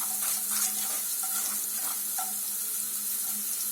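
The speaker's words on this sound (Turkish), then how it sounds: "Arkasından kapya biberimi atacağım. Soğanla birlikte onu da kavuracağım." Onions and red kapya peppers sauté in a pan for an olive-oil fresh pea dish, with a soft continuous sizzle broken by light stirring scrapes and clinks, heard close and alone.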